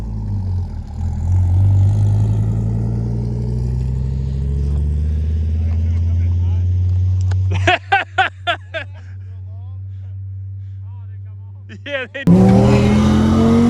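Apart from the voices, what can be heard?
sports car doing a burnout, throwing tire rubber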